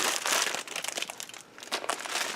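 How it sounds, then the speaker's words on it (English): Wrapping paper crinkling and tearing as a wrapped present is opened, in a steady close rustle with short pauses and no talking. "let's unwrap it."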